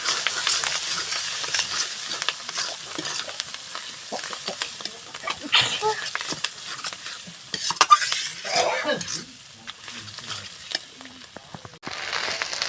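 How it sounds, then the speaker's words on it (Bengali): Taro and fish curry with salt is stirred in a sizzling pan, with continuous frying crackle and scraping, clattering spoon strokes throughout. "আমি এবার কিন্তু নাড়াচাড়া করছি।"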